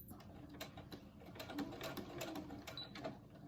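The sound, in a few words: sewing machine stitching over elastic on a fabric mask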